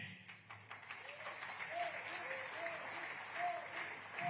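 An audience applauds during Prime Minister Narendra Modi's speech in Nigeria, with dense, continuous clapping at moderate distance and occasional voices in the crowd.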